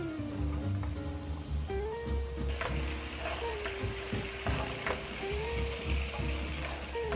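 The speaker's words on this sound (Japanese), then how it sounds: "煮詰まっていく途中でこの煮汁をかけながら火を入れていってください。 このまま終始強火で大丈夫です。" Beef and vegetable rolls simmering in a reducing sauce over high heat, giving a steady close bubbling sizzle throughout with soft clinks from basting with the liquid.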